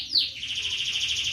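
Rio-rio bird, newly bought and kept in care, chirping in a steady high trill that sweeps down from a sharp opening note, close and clear with no talk.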